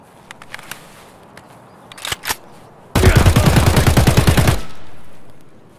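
Gunfire in the shooter game Escape From Tarkov: a few scattered single shots, then a loud, sustained burst of rapid automatic fire lasting about a second and a half, with no talk over it.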